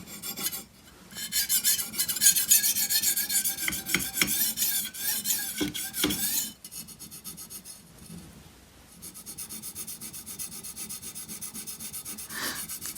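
A dull chef's knife is drawn repeatedly across a Spyderco medium sharpening stone, producing loud raspy scraping strokes, with quieter steady rubbing passes in the second half.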